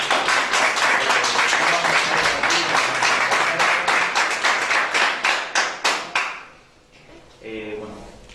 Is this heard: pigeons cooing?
no